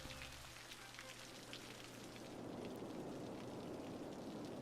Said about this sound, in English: Rain sound effects. I never noticed that.